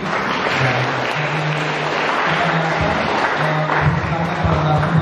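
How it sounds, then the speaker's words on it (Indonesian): Steady, dense applause from a sizable audience continues throughout, with a voice faintly audible underneath. "Mari kita berikan tepuk tangan sekali lagi."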